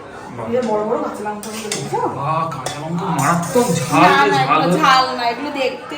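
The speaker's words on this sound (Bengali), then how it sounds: "এই যে মশলা কষছে কাঁচা লঙ্কা দিয়ে" Spice paste being fried with green chilies in a pan, with metal utensils clinking and scraping against cookware at close range under near-continuous conversation.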